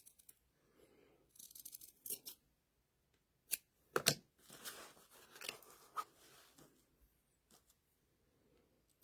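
Scissors cut fabric for quilt blocks in a quiet room, giving short, scattered snips and crisp rustles with long silent gaps between them.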